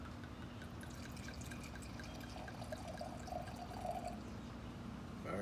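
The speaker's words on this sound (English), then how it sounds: "pouring of the wine" Red wine poured into a glass, a soft continuous liquid trickle with faint dripping, heard up close and alone at low level.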